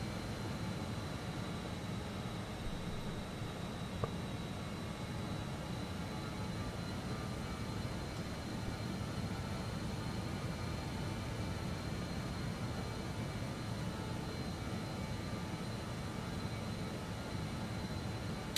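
Airliner engines in Microsoft Flight Simulator 2020 on a flight from Liège to Palma de Mallorca, a steady, even whooshing roar with a faint high whine as the throttles are lowered, continuous and unbroken.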